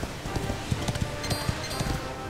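Rhythmic horse hoofbeats in the video game Dragon Quest XI, an even run of soft thuds at a quick gallop pace over steady ambient game noise.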